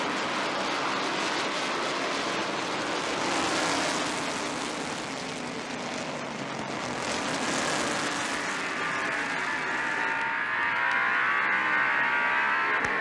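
Late-1980s NASCAR Winston Cup stock cars racing at Martinsville, a steady broadband roar of engines lapping the short track with gentle swells as the pack passes, continuous throughout with no talk.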